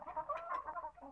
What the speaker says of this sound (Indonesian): Ini ayam Bangkok betinanya.